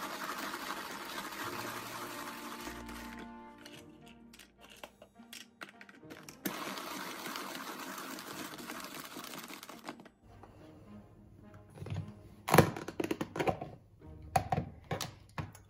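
Almonds ground to powder in a food processor, first a steady whirring motor with rattling nuts, then quieter pulsing bursts and clatter as the processor starts and stops.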